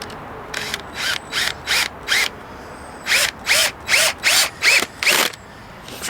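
A power drill bores into soft wood in short whirring bursts, about eleven pulls in a steady rhythm with brief pauses between, close and clear.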